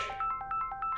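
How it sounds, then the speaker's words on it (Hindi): An incoming call's ringtone chirps in a quick, bright, repeating electronic pattern of short pulsed tones, fairly close and clear over faint background. "फोन आ रहा है"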